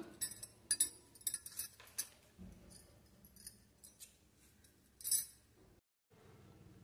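Scissors snipping through blouse fabric on a cutting table, a series of faint, irregular close snips and crisp clicks with brief pauses, no talking.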